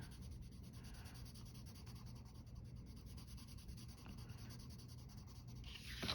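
Soft, continuous scratchy rubbing of a worn, broad pencil tip shading on paper, steady and close, with no one speaking.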